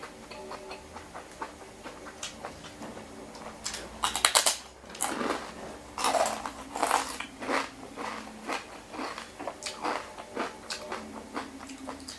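Someone eating a bowl of Cambodian-style noodles up close, with repeated wet slurps, chewing clicks and soft crunches in an uneven rhythm and no speech.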